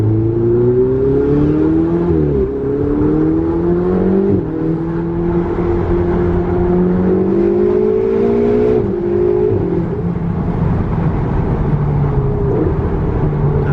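A Ferrari fitted with a modified aftermarket exhaust revs loud and close, its deep, cavernous engine note climbing and dipping in long sustained pulls with no voices over it.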